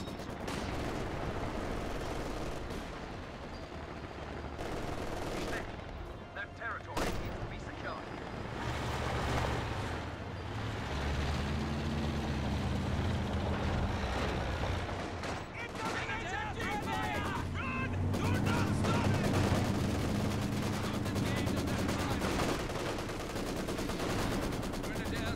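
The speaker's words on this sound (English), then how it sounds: "he's starting to mortar it" Combat in an online war shooter game: mortar shelling and sustained machine-gun fire roar nearly nonstop at high volume, with bursts and blasts layered over each other while a player talks throughout.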